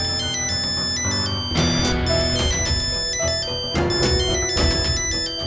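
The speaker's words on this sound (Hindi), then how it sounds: "घर से फोन, बीवी का होगा" A mobile phone rings with a melodic electronic ringtone, a call coming in from home, repeating its tune steadily and fairly loud with no talking over it.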